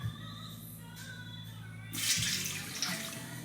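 Water from a kitchen tap splashes into a pot for cooking, a short faint rush that swells partway through, with a few knocks before it.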